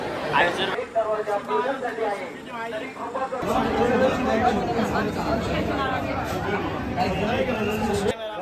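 A crowd at the Ekvira temple chatters continuously, a dense, close babble of many overlapping voices that swells louder midway.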